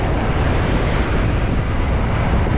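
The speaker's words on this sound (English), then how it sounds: "it's windy" Strong wind roaring steadily across the microphone outdoors in the woods, a loud continuous low rushing buffet with no pauses and no voices.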